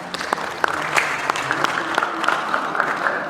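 Sparse applause from an audience thanking a conference panel on publishing trends, with a few distinct claps standing out over a steady wash of clapping, moderately loud.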